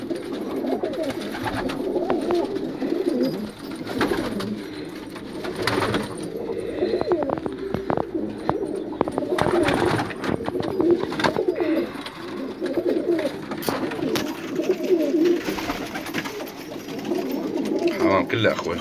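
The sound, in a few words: pigeons cooing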